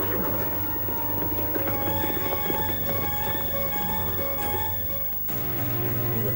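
Hooves clip-clop in a quick, steady rhythm under music, continuing for several seconds before a brief dip and resuming.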